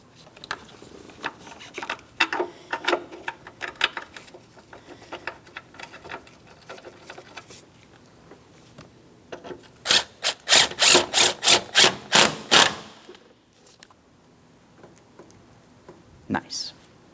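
Tightening the battery hold-down bolt and mounting hardware on a 2004-2008 Pontiac Grand Prix, heard as a quick run of sharp ratcheting clicks in a close, even rhythm after quieter handling and rubbing noises, with brief talk.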